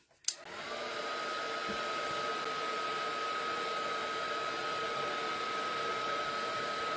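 A heat tool drying craft paint starts with a click and then blows a steady, even whirring hum with a high whine, running continuously at close range with no speech.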